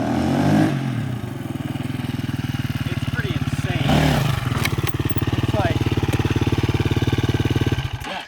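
A Husqvarna FE350 dirt bike engine runs close by at a steady, throbbing idle, with a brief blip of revs partway through, as a person talks over it.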